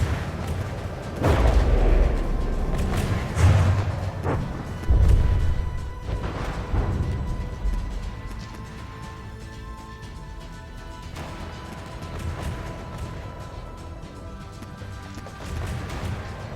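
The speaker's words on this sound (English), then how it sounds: "torpedoes that are hitting the ship, those explosions are causing it to drift more and more" Torpedo strikes on a pre-dreadnought warship in a naval battle game, several deep booming blasts in the first few seconds, then a quieter rumbling stretch with a few fainter impacts.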